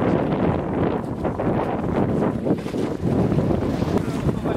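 A boat crossing between islands in Caramoan, Philippines, carries a dense, loud rush of wind buffeting the microphone with churning water and engine drone beneath, steady for the whole stretch.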